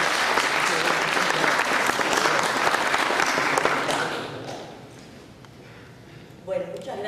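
A conference audience applauds speakers at a software quality session, dense clapping that holds for about four seconds then fades, with a few scattered claps and a voice starting near the end.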